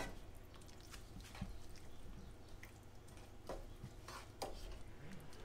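Brown sugar and white vinegar being stirred into ground beef for cowboy baked beans, a soft, faint scraping and mixing in a pot with occasional light utensil clinks, steady and close.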